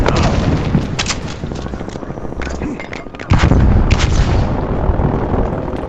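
Loud, close gunfire in the video game Call of Duty Black Ops Cold War, with rapid bursts of shots and heavy booms packed densely throughout.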